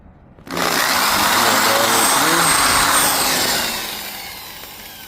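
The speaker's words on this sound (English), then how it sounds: "now that's the first hole" A power drill bores a 1/4 inch hole in a Nova transmission part, starting abruptly with a loud, steady whirring grind that holds for several seconds and then eases slightly as the bit works through.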